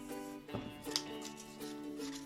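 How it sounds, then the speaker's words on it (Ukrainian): Scissors snip paper into small pieces for an appliqué craft, giving a few soft, close crisp cuts over a steady background hum, with no talking. "ножиці розкрили пащу. А тепер стискаємо і нарізаємо."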